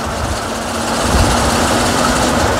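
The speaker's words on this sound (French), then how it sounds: "il y a un petit bruit du moteur électrique" A retrofitted Peugeot 103 moped rides on its electric motor, giving a faint steady whine under a loud, rushing wind and road noise that holds constant throughout.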